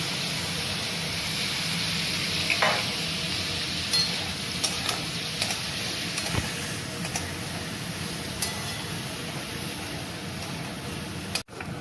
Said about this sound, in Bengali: একই তেলের মধ্যে আমরা আগে থেকে বয়েল করে রাখা সবজিগুলো একটু ফ্রাই করে নেব।